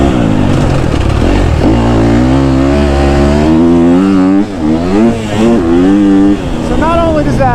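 A KTM 250 SXF dirt bike engine accelerates loudly and close, its pitch climbing and falling through repeated revs as gears are run out, with a continuous strong drone and no talk over it.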